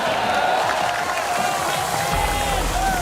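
Sustained crowd clapping and cheering for Gerindra chairman Prabowo at a political coalition event in Indonesia, a loud continuous roar of many hands with a public-address voice carrying over it.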